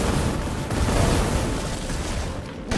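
Sustained gunfire in the video game Resident Evil Village, a dense, loud barrage of shots and booms running continuously throughout.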